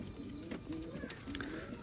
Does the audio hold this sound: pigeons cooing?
yes